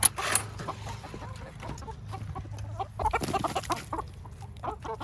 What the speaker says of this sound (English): Bringing these big old pile of apple scraps out to the chickens.